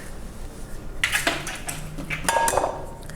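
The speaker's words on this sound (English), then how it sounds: "we're going to add a couple of eggs to this" Eggs being added to a quick-bread batter in a mixing bowl, heard as two close clinks of shell against the bowl rim over a quiet room background.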